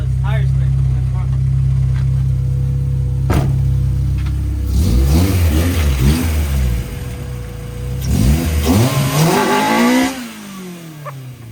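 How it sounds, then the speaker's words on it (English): A B18 GSR engine in a nitrous Honda CRX fitted with a new limited-slip differential revs hard in repeated rising surges as the front tires spin, loud and close, with excited voices talking over it. "I see the tire spin in the front."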